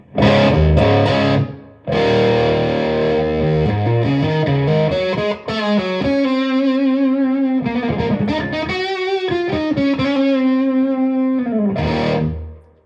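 Electric guitar through an Ibanez Tube Screamer distortion pedal, loud and saturated, with strummed chords that give way to sustained, thick notes and a strong low-mid push, then a final burst of chords.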